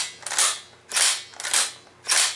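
The bolt of a Ruger Gunsite Scout rifle in 5.56 slides closed under gravity four times. Each stroke is a short metallic sliding rasp ending in a clack, close and crisp, with brief pauses between strokes.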